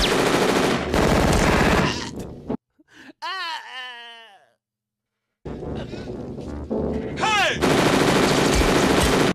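Loud machine-gun fire from the film The Terminator rattles in dense bursts, breaking off for a few seconds of groaning, wailing voices and near silence before the rapid shooting resumes.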